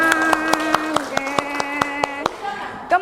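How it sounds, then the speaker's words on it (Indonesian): A primary school class claps for a classmate, Sukarman, during a lesson. Sharp, evenly spaced claps keep a quick rhythm under chanting voices, then fade into brief talk. "iya, tepuk tangan buat Sukarman"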